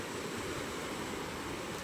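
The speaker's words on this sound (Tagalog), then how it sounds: "Malakas ang alon" Strong sea waves surge and wash steadily at a fishing port, a continuous broadband roar of churning surf with gusty wind noise, fairly distant and unbroken throughout.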